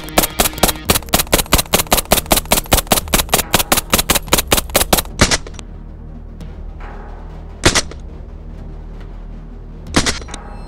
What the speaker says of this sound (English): We're gonna fire multiple shots from the MP5 SD, 9mm, 124 grain full metal jacketed NATO.